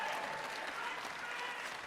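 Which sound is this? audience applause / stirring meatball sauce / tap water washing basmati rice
audience applause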